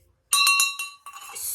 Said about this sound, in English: I found this heavy wood and brass bell.